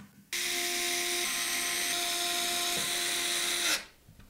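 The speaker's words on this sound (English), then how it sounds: "And then we can tighten it up with a screwdriver." A power screwdriver tightens a CPU cooler bracket during a PC build in a be quiet! Dark Base Pro 901 case, one steady loud whirring motor run of about three and a half seconds that stops abruptly, with no talk.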